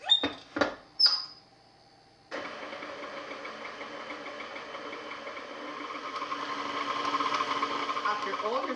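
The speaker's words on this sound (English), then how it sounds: "With your stand mixer, combine your activated yeast, sugar, and melted butter at room temperature until the sugar is all incorporated" A stand mixer hums and whirs steadily while mixing cinnamon roll dough of activated yeast, sugar and melted butter, with a few sharp knocks first, then a continuous motor drone that grows slightly louder.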